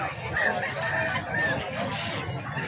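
Chickens cluck steadily at a busy, noisy pet market in Bocaue, with a dense background murmur and occasional higher squawks over it.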